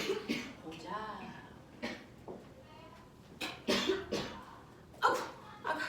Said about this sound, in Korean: 아가 기침하는구나